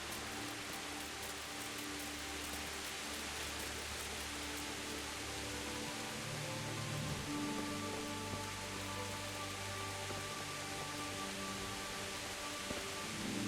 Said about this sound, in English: Raining again? Lots of rain.